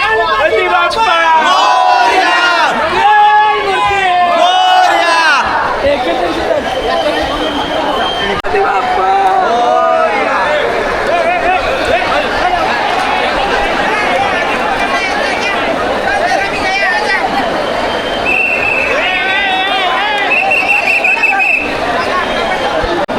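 A huge, dense crowd at the Lalbaug Ganpati festival in Mumbai roars and chants in unison near the start, then settles into loud, continuous shouting and chatter with scattered whistles.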